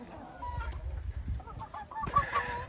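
A blue rooster and hens cluck softly in a backyard coop, a mix of low murmuring clucks and brief calls, close by, rising to a louder squawk toward the end without speech.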